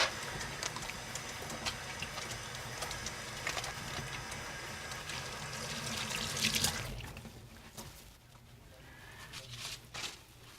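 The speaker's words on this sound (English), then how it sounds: "we're going to start by washing our hands" Hands being washed under a running kitchen tap before cooking: a steady, fairly quiet wash of flowing water that thins out near the end, with a few faint clicks and no speech.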